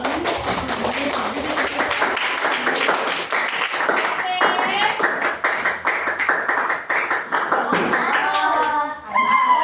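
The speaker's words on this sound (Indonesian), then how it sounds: "Tepuk tangan dulu" A classroom of students claps together in a steady, lively patter, with children's voices and a teacher talking over the clapping throughout.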